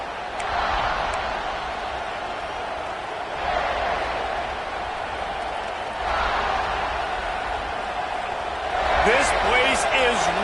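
A football stadium crowd roars in Florida, a loud continuous wall of cheering voices that swells in waves, with an announcer talking over it.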